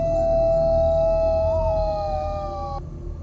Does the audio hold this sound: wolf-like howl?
yes